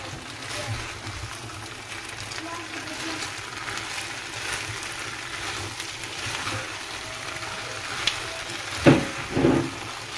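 Fried chicken pieces tossed and stirred into a hot pan for chilli chicken, steady sizzling hiss with scraping stirs throughout, a couple of louder clattering spatula knocks near the end.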